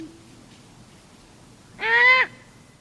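A fledgling owl gives one loud, harsh rasping scream lasting about half a second, near and clear against a quiet woodland background, with a faint thin tone just before it.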